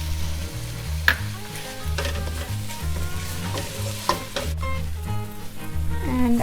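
Vegetables sautéing in a pan after a splash of lemon juice, a continuous close sizzle with occasional sharp stirring knocks and scrapes, alone without talk under a low musical background.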